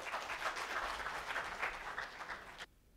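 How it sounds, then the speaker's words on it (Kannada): Audience applause fills a conference hall during a Kannada HR conference, a steady dense wash of clapping that stops abruptly near the end. "ಜೋರಾದ ಚಪ್ಪಾಳೆ ಬರಲಿ"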